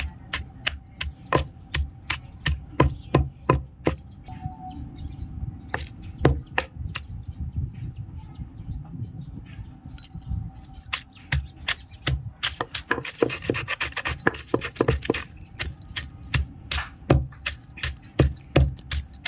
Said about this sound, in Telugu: పచ్చి పచ్చిమిరపకాయలు వేసేసి కొంచెం రుచికి సరిపడ ఉప్పు వేసుకొని బాగా దంచేస్తున్నాం